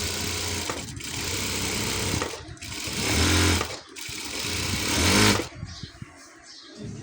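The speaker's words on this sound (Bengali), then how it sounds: "প্রথমে একটা চিকন সেলাই দিয়ে নেবেন সুন্দরের জন্য।" A sewing machine runs a thin stitch along a saree hem, whirring in long, close, loud runs that stop briefly between passes, with no voices.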